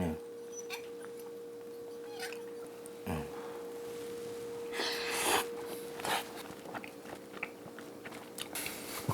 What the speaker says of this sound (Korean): 저도 한번 먹어보겠습니다.